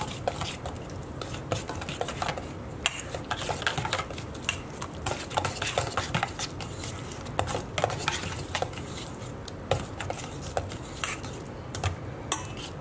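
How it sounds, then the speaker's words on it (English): A spoon clatters and scrapes around a bowl while carne asada marinade is mixed, with irregular clicking taps and stirring sounds continuing steadily throughout at close range. "all we're going to do now is just give this a good mix together"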